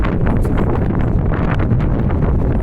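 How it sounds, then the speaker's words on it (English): Wind gusts steadily across the microphone at Water Street and Barrington Street, a constant low rumble with no voices. "It's windy now."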